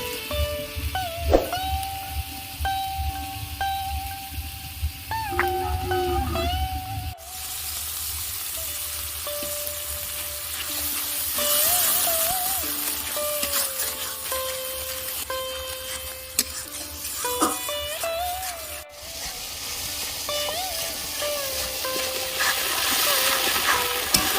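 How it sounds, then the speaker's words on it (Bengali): Masala spice paste with salt and turmeric frying and being stirred in a pan for a Bengali katla fish kalia, a steady close sizzle with intermittent scraping of the spoon, no talking. "তো দেখো মশলাটা একটু নেড়ে চেড়ে কষিয়ে নিয়েছি।"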